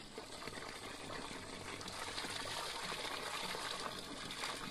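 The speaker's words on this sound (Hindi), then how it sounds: "तो ये है खेत का नाला," Water rushing steadily through a farm field drainage channel in rural India, a continuous close gushing and trickling wash with no pauses.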